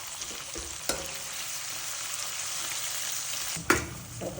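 Onions, garlic chutney and tomatoes fry in a pan, a steady close sizzle with a few sharp scrapes of a stirring spoon against the metal.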